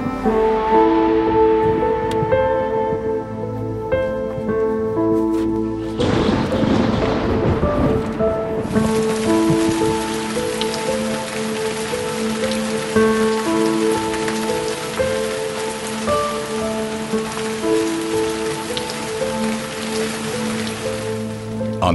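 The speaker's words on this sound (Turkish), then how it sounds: "Yağmur gelecek." Steady rain falls throughout, a dense continuous patter on surfaces, with tonal music-like lines running underneath and a brief louder noisy burst early on.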